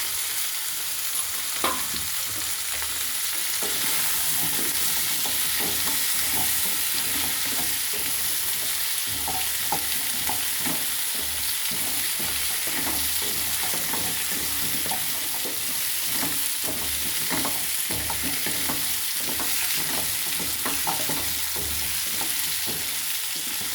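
Drumstick pieces fry and get stirred in a pan, a steady broadband sizzle running throughout with repeated scraping strokes of the spoon, close and fairly loud, no voices.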